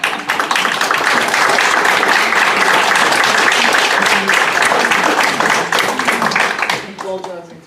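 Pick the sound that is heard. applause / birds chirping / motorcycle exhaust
applause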